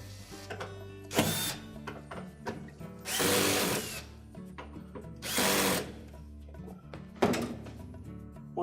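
A socket and ratchet tighten the hinge screws on a Whirlpool refrigerator door, heard as three bursts of close ratcheting spread among softer clicks and handling knocks.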